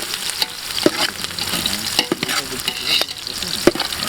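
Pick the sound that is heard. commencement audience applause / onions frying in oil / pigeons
onions frying in oil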